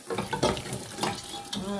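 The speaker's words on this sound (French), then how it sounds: "je vais mettre la viande que j'ai réservée à côté dans cette casserole. Je vais tout renverser avec le jus." Meat and its reserved juices tipped into a saucepan for egusi sauce, giving a few short, wet splashing pours and sloshes with slight sizzling, close by and moderately loud.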